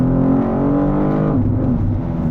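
A BMW M2 G87 engine pulling hard along a winding road, a loud steady in-cabin drone whose pitch rises, then dips briefly with a gear change before climbing again.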